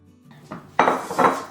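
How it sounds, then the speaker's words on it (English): A knife cuts through a strawberry lemon loaf cake with a few soft scraping strokes and light clinks against a plate or board, close and fairly quiet, with two firmer cutting bursts near the end. "now I'm gonna go ahead and slice this up and show you what it looks like inside"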